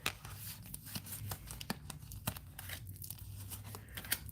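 Someone shuffles a deck of playing cards with bronze-edged sides up close, making quick crackling riffles and soft snaps in short, irregular bursts.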